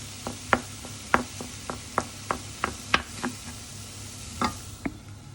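Turkey mince frying in a pan while being stirred, a soft background sizzle punctuated by a dozen or so sharp scraping taps of the utensil against the pan at an uneven rhythm, close up.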